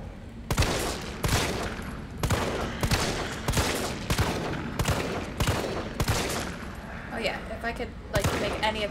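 Rapid bursts of gunfire in the video game Resident Evil 3 during a boss fight, a dense run of loud, sharp repeated shots at close range, with a player's voice talking over the action.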